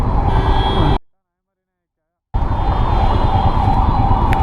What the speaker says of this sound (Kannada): ಆಂಬುಲೆನ್ಸ್ ಐತೆ.